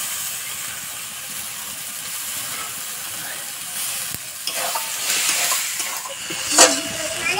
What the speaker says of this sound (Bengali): এখন দিয়ে দিচ্ছি টমেটো।